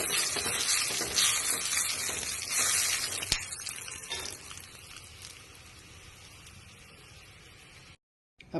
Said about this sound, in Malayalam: ഇത് നന്നായിട്ടൊന്ന് ഇളക്കി യോജിപ്പിച്ച് കൊടുക്കുക.